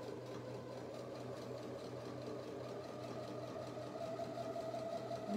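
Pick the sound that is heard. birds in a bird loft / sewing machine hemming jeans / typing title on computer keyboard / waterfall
sewing machine hemming jeans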